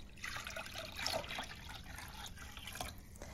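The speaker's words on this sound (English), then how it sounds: "I pour the dandelion tea back into the pot." Dandelion tea poured back into a cooking pot in a home kitchen, a steady close liquid splash and trickle with small drips, continuous over a few seconds with no talk.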